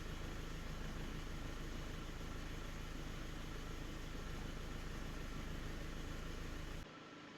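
A 2000 Hyundai Accent with an airflow sensor fault idles quietly, giving a steady, even hum with no speech, until the sound drops abruptly near the end.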